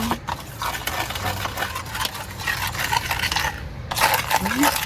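A spoon grinds poppy seeds against a bowl in steady, repeated scraping strokes, close and fairly loud, with occasional light clinks.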